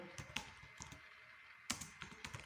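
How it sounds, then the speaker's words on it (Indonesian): A docker command typed on a computer keyboard: faint, close key taps in two quick bursts separated by a short pause, with no talking. "bisa kita ketikkan perintah docker"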